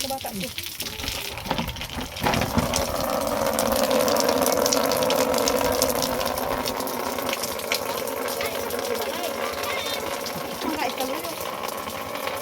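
Rainwater pours steadily off a plain roof in a continuous watery rush that swells after the first couple of seconds, with people talking over it at the start.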